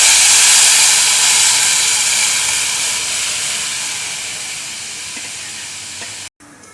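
Buttermilk kadhi, Gujarati sweet-and-sour white style, poured into a hot asafoetida tempering gives a loud, dense sizzle and hiss that bursts at once, then slowly fades over several seconds before cutting off abruptly.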